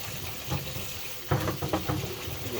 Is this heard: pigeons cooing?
no